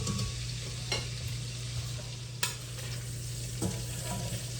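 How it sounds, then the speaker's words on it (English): Steady sizzling of sausages frying in a pan, with occasional scrapes and stirs of a utensil every second or so. "I have a lot of sausage in this pan, so this is going to take a little longer to brown them up"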